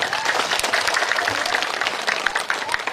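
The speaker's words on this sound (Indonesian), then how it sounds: "Tepuk tangan untuk semuanya." Lively applause from a crowd at a humorous Sundanese-language sermon keeps up as a steady, dense wash of clapping, with a few voices mixed in.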